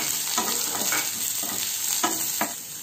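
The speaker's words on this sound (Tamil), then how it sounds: "வெங்காயம் வதங்கட்டும்." Chopped medium onion sizzles in hot oil as it sautés, a steady close frying hiss broken by several scraping stirs of a spoon or spatula.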